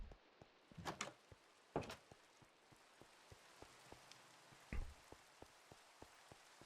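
Steady rain falls in Minecraft, a dense hiss of drops with regular soft ticking throughout and a few louder splashy bursts near the start and middle.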